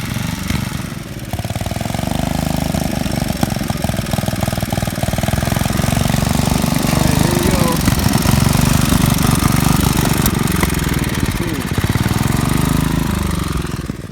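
A junk garden tractor converted into a go-kart drives past with its small engine running loud and steady, a rough chugging drone that holds nearly unbroken and swells and fades slightly as it moves.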